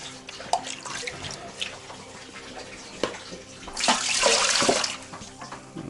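Water is poured into an autoclave for canning perch, a short, splashing gush in the last seconds after quieter clinks and handling sounds.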